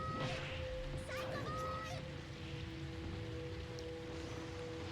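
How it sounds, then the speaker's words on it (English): Steady rain falls in a soft, even hiss throughout, with a faint tonal hum running underneath and brief voices early on. "we are hearing rain, and that's mostly it"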